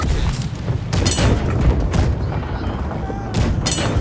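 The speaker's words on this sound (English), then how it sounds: "Right side cannons, go, go, go, go, go, go." Ship cannons firing a broadside in the naval game Blackwake, a rapid series of heavy booms in quick succession, loud and close over a constant rumble of sea and wind.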